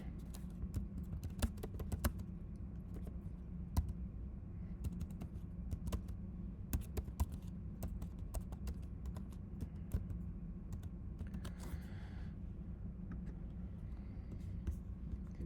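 A prompt is typed on a computer keyboard in a quiet room: a steady run of close, crisp key clicks over low background hum, with no speech.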